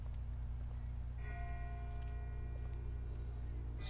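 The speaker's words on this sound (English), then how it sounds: "That's not the same bell as before. This one's further off." Faint, distant bell tolling in The Walking Dead Season 1 video game, sustained ringing tones starting partway through and lingering over a steady low ambient hum with no talk.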